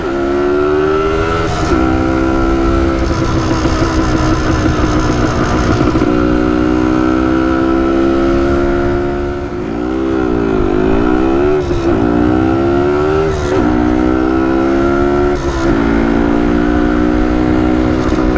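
A 1974 Yamaha DT250 two-stroke motorcycle engine runs loud and close throughout while being ridden, its buzzing pitch rising and falling through gear changes and throttle surges, with a brief dip near the middle before pulling hard again.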